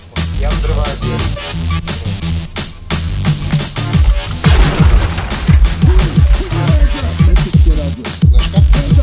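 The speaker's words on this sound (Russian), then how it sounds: "Я взрываю дверь." A door-breaching explosive goes off in the tactical shooter Ready or Not, a loud boom with crashing debris followed by rapid, repeated gunfire in a dense, close mix.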